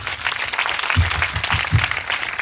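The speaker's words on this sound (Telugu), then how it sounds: "అందరం చేతులు పైకి గట్టిగా చప్పట్లు కొట్టి దేవుని స్తుతిద్దాం." A church congregation claps in praise, a dense, fairly loud wash of many hands applauding together with some rhythmic stronger claps, no speech over it.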